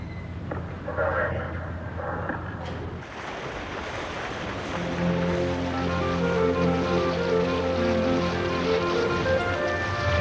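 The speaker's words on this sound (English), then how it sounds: "With a rush, the water pours into the lock" Water rushes into a canal lock on the St. Lawrence with a broad, steady roar of turbulent flow that swells louder about halfway through, while a low tonal drone hums underneath.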